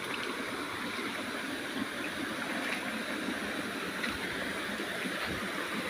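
Water from a mountain spring flows after days of rain as a continuous, broadband rush that holds steady and fairly close throughout, with no voices.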